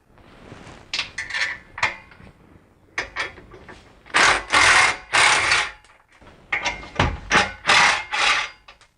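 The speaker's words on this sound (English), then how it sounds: "I can get in behind there with my impact and get it off." An impact wrench works a 13 mm nut off a BMW X5 E53 transfer case in a home garage. It fires several short, loud rattling bursts with quiet pauses between them.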